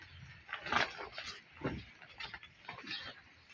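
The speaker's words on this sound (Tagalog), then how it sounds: "Kawawa ng mga tuta." Puppies in a pen on a rainy evening give off soft, close whimpers and small yelps, a few brief cries over about three seconds.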